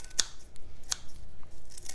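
Scissors snipping Blue Vervain plant stems, two sharp distinct cuts close to the microphone with a quiet pause between them and no talking.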